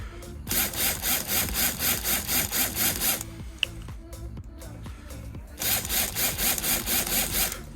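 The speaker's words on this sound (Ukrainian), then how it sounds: "легенько висверлюємо." Drill gently boring into lithium-ion battery cells while building a 36V e-bike pack, close rhythmic grinding in two bursts with a quieter pause of small clicks and handling between them, no speech.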